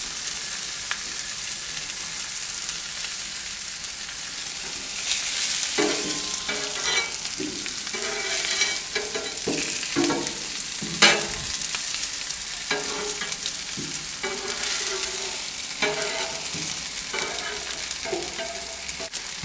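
Pancakes sizzle steadily on a Blackstone griddle set to low heat, a constant close frying hiss with scattered soft scraping and clicking from a spatula, no voices.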